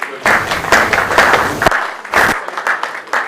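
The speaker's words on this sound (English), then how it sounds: "Juliet Okoli. Please, a round of applause for my colleague." A conference audience at a quality assurance summit breaks into applause, bursts of many hands clapping in uneven waves that swell and dip, with some voices mixed in.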